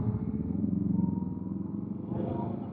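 A motorcycle engine rumbles steadily nearby, its pitch rising slightly near the end as it passes.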